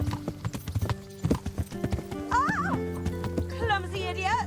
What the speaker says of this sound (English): Learn to ride a horse before you kill someone!